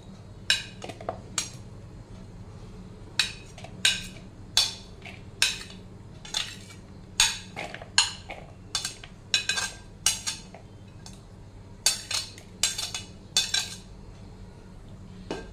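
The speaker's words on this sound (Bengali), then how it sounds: "প্রথমেই আমি সব ভেজিস গুলো অ্যাড করে দেবো" Vegetables go into a mixing bowl for a sooji chila batter, with repeated sharp clinks and taps of a spoon against the bowl in an irregular rhythm over a low steady background hum.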